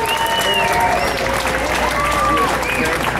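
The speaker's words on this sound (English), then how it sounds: "So let's give yourselves a round of applause." Outdoor crowd applauding at a summer evening Friday Night Live street event celebrating Waukesha GuitarTown guitar sculptures, steady dense clapping with cheering voices and whistles throughout, loud and close.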